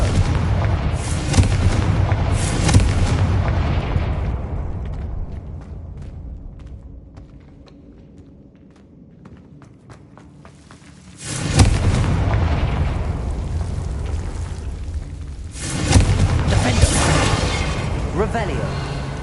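Confringo spell blasts in the Hogwarts Legacy video game, loud booming explosions with long rumbling tails, one bursting out near the middle and another later, after a quieter stretch of ambient game sound.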